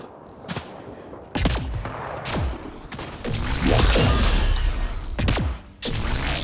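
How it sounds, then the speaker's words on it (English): Pistol gunfire in the sci-fi video game Mass Effect Andromeda, several loud, punchy shots spaced irregularly, with heavy booming impacts and crashes mixed in amid combat. "This pistol is similar to a shotgun, I feel."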